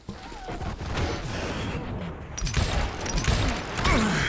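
Rapid bursts of pistol fire crackle in Call of Juarez: Gunslinger, overlapping shots and mechanical clicks with a faint voice underneath.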